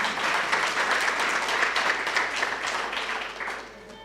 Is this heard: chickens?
no